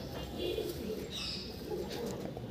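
Soft, low pigeon coos repeat under a steady background hum, with a few faint chirps mixed in nearby.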